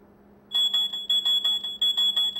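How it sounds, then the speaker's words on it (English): Electronic alarm of a wireless analog data acquisition system: a steady high-pitched beeping in repeated rapid bursts, loud and clear, starting abruptly after a moment of near silence. "When the data is within the given threshold conditions, the various alarms will be turned on."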